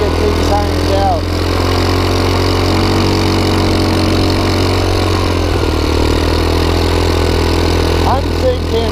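A 150cc GY6 engine powers a wide-stance ATV at moderate, unstrained speed, giving a continuous loud droning buzz with a slightly uneven carburetor note, with faint voices in the background.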